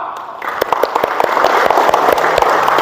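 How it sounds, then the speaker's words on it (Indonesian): Church congregation at a ministry seminar for church elders breaks into applause, a dense, steady wash of many hands with sharper individual claps standing out near the listener, loud and sustained throughout. "tepuk tangan untuk jemaat"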